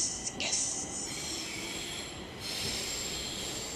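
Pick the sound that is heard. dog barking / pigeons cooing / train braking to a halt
train braking to a halt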